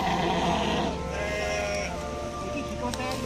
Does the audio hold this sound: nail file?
no